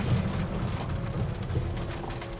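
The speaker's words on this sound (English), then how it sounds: "Well, it's raining." Rain falling steadily outdoors, a soft even patter and hiss with faint low rumbling underneath, continuous and unaccompanied by speech.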